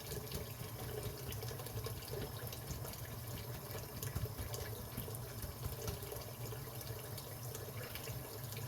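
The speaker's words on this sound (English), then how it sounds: "Very hot water. Very hot water indeed." Very hot water runs from a kitchen tap in a steady, even rush of splashing, close and moderately loud, with no talk.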